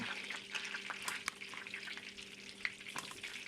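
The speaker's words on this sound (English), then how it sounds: "Hear that sizzling?" A sandwich fries in a pan with a soft, steady sizzle and crackle, punctuated by a few sharp pops and light scraping, fairly faint and close.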